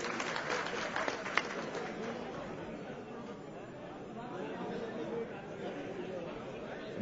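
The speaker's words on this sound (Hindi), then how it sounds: "विजय गोयल जी, जोरदार तालियों से।" Crowd of party workers at a booth coordinators' meeting in Delhi claps and chatters in welcome of Vijay Goel, a steady dense wash of applause mixed with murmuring voices throughout.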